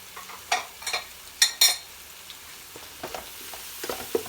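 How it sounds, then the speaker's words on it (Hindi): Chicken chickpea masala with tomatoes, green chillies, bay leaf, star anise, cardamom, cinnamon and lemon pieces is mixed in a pot: a faint sizzle broken by several sharp spoon scrapes and clinks, no talk. "मिक्स करेंगे इन सब चीज़ों को।"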